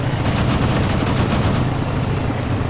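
Gunfire aimed at a Hind helicopter in a dogfighting video game, a dense continuous rattle of rapid shots over a low engine rumble, loud and close.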